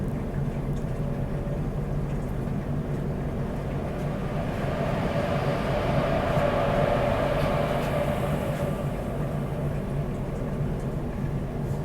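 A luxury special train rolls out of Borivali in Mumbai alongside a local train, heard from inside the carriage as a steady, moderate rumble of wheels and running noise with faint rhythmic clatter and no talking.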